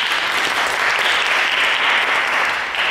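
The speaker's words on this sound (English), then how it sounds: "So now, just everybody claps." A group claps together during a bow rehearsal, a close, continuous patter of many hands at steady volume for about three seconds, no talking over it.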